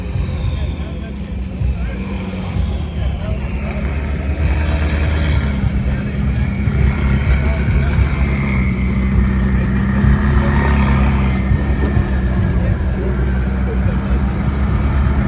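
McLaren supercars rumble past at a night car meet. A loud, continuous low engine drone builds and shifts as the cars pass, with crowd and voice noise mixed in underneath.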